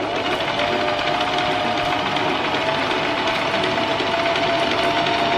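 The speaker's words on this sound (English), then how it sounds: "let's start sewing this bad boy" A sewing machine runs steadily while stitching a patchwork top from pieced fabric, its fast, even mechanical whir and rattle loud and close, unbroken throughout with no speech.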